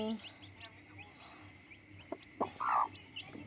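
Newly hatched chicks chirp and peep faintly in a quiet space, with a louder cheep or cluck near the end and soft speech around.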